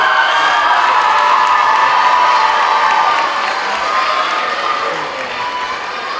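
Dense applause and cheering from the audience at an 8th grade school graduation ceremony at an arts school, a steady loud wash of clapping with shouts, easing slightly toward the end.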